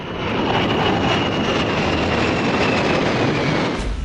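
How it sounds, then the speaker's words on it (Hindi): Naval fighter jets, MiG-29K and F-18, flying during a naval exercise, heard as a loud sustained roar that swells and holds, then cuts off abruptly near the end. "अभ्यास में नौसेना के लड़ाकू विमान MiG-29K और अमेरिकी एयरक्राफ्ट F-18 शामिल हैं।"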